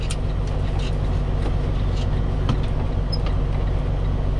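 A 10-speed truck cruising on the road, a steady loud engine drone and low rumble with road noise, unbroken throughout and no talking.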